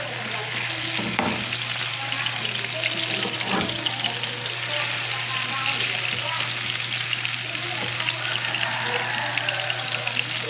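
Garlic and onion sautéing in a hot pan for chop suey, a loud continuous sizzle with stirring and scraping of the utensil, close up, with a low steady hum underneath.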